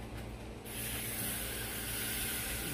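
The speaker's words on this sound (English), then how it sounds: "Spray it down with a little Pam." Pam cooking spray hisses onto a steak being grilled at a barbecue competition, a close steady spray that starts abruptly and continues over a low background rumble.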